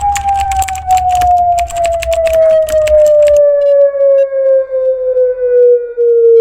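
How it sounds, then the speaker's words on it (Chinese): A tsunami warning siren sounds as a single loud, steady wail whose pitch slowly falls. It begins over a burst of rapid clicking and low rumble, then continues alone and clear. "那就是海啸警报。"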